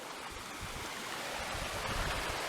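Mountain stream water in Kletno flowing steadily over stones as someone wades through it, a continuous broadband rush close by with no voices.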